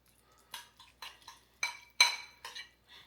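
A utensil clinks against a bowl while lemon juice is stirred into a sauce, giving about seven separate, sharp taps in an irregular rhythm, close and fairly quiet, with no talking.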